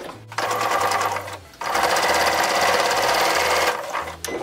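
A sewing machine runs in steady, loud bursts while top stitching a fabric zipper pouch, with a brief pause in the middle before stitching resumes.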